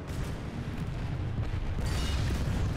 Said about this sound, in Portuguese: Tome, granada.